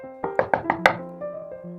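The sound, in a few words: knock on a house door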